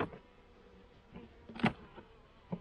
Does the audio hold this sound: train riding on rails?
no